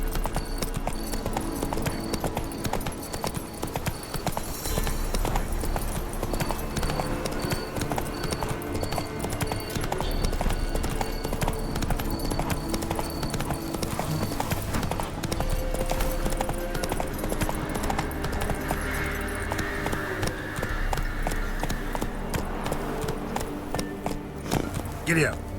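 Hooves of Roach, Geralt's horse in The Witcher 3, pound in a fast continuous galloping rhythm, close and loud, with game sounds and voices mixed in throughout.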